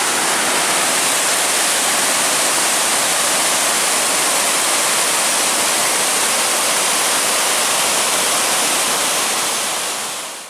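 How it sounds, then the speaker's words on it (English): A waterfall on the Cross River near Schroeder, a loud, dense, unbroken roar of rushing water filling the whole span before cutting off abruptly at the end. "This is an amazing waterfall."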